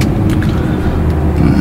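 Audi R8 engine revving after a downshift, a loud, steady, deep exhaust drone filling the whole short stretch, close by with no voices.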